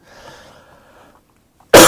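A single sharp cough bursts out loudly at the very end, after a moment of faint background and near silence.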